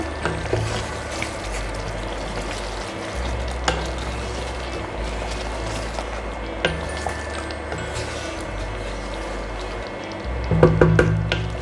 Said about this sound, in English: Let's stir this all together.